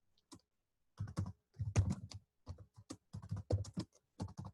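Bursts of clicky keyboard typing, close by, in quick uneven runs separated by short pauses.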